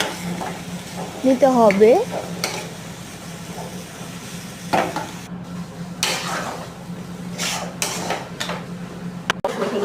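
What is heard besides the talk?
stirring leafy greens frying in a pan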